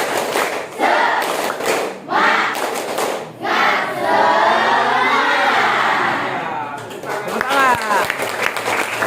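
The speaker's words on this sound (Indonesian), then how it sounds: "1, 2, 3, tepuk semangat." A standing group of students doing a rhythmic 'tepuk semangat' clap in a classroom, with bursts of patterned clapping and shouted chanting, voices and cheering mixed in, loud and close.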